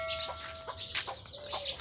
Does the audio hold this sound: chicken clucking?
yes